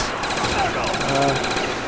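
Rapid automatic gunfire shooting zombies at the top of a water slide on the Shangri-La map in Call of Duty Zombies, a steady dense rattle of shots over game ambience, with speech mixed in.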